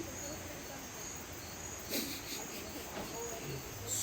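Cicada buzzing at the edge of a garden in Costa Rica, a steady high insect drone that runs unbroken throughout with a brief louder swell near the middle.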